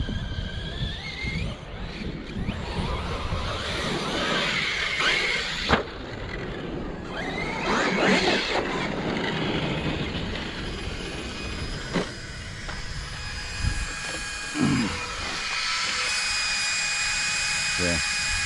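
Electric motor of an ARRMA Kraton 6s RC car with a custom carbon-fibre chassis, whining and revving in loud bursts with rattling and scraping, under people talking.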